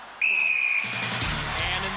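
Referee's whistle blasts once, sharp and loud, to start a Gladiators celebrity wall-climbing challenge in 1994, followed by a rising burst of crowd noise in an arena.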